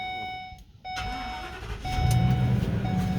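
A 2019 Ford Freedom Elite motorhome engine cranks and catches, a warning chime beeping steadily before a rising rumble settles into a steady idle close by.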